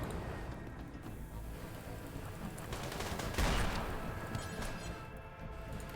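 Sustained video game gunfire, a steady rattling fusillade with a heavier crashing burst around the middle, continuous and fairly loud throughout with no speech.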